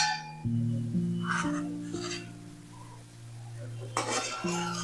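A spoon clinks and scrapes against a pot while boiling milk curdled with lemon is stirred and skimmed, with scattered metallic taps and a steady low hum underneath.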